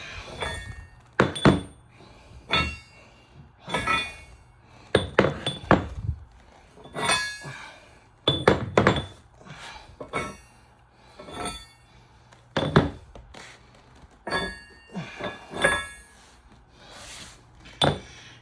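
Metal bolts being knocked and pried loose from the steel joint bars of a 131 RE rail joint display, a series of sharp clanks and clinks in irregular bursts, close and fairly loud, with no talking.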